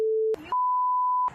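Two censor bleeps, a lower steady tone then a longer higher one, each cutting over speech in commentary on a televised interview; brief bursts of voice sit between and after the tones.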